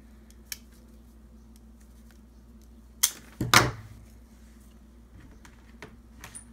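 Scissors cut a piece of paper for a scrapbook wall hanging: a few sharp snips stand out against a quiet room, with one louder double cut in the middle and faint small taps around it.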